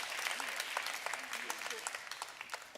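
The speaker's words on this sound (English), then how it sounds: "on peut les applaudir quand même parce que ça demande du courage de venir sur une scène comme ça" An audience at a professional congress applauds performers who have just left the stage: steady, moderately faint clapping from a crowd, with some murmured voices underneath and a few louder individual claps near the end.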